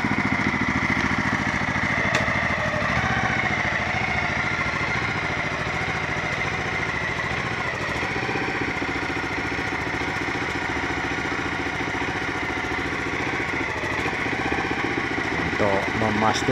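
A rice transplanter's engine runs at a steady idle during evening maintenance, giving a loud, continuous mechanical drone with a constant rattling hum for the whole stretch.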